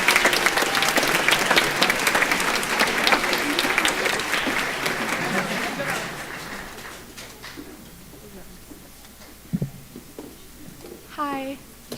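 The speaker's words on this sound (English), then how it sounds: "One more round of applause for all of our 8th graders." An audience applauds 8th grade band students at a middle school spring concert, loud dense clapping for several seconds that fades out, followed by quieter room noise and a brief voice near the end.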